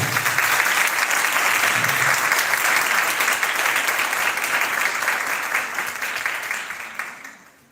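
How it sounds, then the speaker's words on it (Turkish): A forum audience applauds for a young hafiz receiving a gold award: a loud, dense, sustained wall of clapping that tapers off and fades out near the end. "kendisine alkışlamanızı rica ediyorum"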